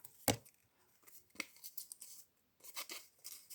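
A handmade paper package is torn open, with one sharp rip at the start followed by several shorter tearing and crinkling bursts, close and quiet, with no talking.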